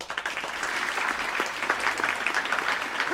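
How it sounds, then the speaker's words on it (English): Steady applause from a crowd, dense clapping throughout with no talking, fairly close and even in loudness. "let's hear some applause"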